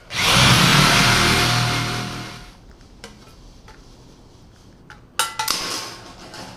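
A power tool, likely an abrasive cutoff or saw, cuts into steel chassis tubing in a loud, sustained burst of about two seconds, then winds down, followed by sharp metallic clinks and knocks nearby.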